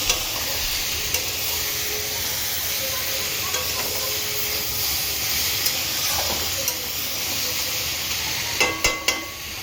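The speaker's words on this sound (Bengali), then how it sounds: "এখানে হচ্ছে চিচিঙ্গা ভাজা।" Snake gourd frying in a pan, a steady broadband sizzle running throughout with occasional soft clicks and a few sharp spatters near the end.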